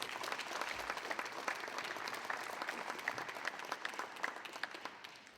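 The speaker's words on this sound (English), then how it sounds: "let's give her a warm applause." Warm audience applause in a hall as a university president is welcomed to the podium at an athletics press conference, a continuous, fairly distant wash of many hands clapping that eases slightly toward the end.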